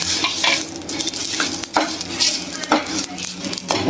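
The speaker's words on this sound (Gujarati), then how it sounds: "જો આપણા બધા મસાલા શેકાય છે" Whole spices for homemade garam masala dry-roasting in a pan, with steady scraping stirs and light rattling of seeds against metal, close and alone with no talking.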